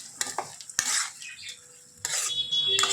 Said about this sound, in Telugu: ఇప్పుడు ఇది మొత్తం తిప్పుకోవాలన్నమాట